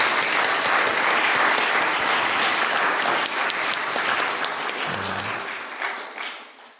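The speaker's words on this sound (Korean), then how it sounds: "박수로만 그러면 축하합니다" A Korean church congregation at a Sunday service in Bloomington claps for its graduating members, a full, even round of applause that thins and fades out near the close.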